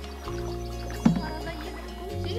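Kayak paddling on a river, soft close splashes and gurgles of water around the boat over a steady low hum, with one sharper paddle stroke in the middle.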